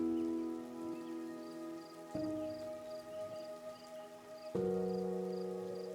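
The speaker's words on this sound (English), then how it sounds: "The rain drizzled steadily as Robert Rambo leaned against the truck" Steady drizzling rain pattering on a surface, a continuous soft hiss of drops with a few louder shifts in intensity, close and even throughout with no voices.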